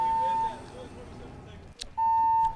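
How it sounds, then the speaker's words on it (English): Fire alarm sounding during a Rocket League esports broadcast: a steady electronic tone holds for about half a second, drops away, then returns, with commentators talking underneath. "So we have a fire alarm going off."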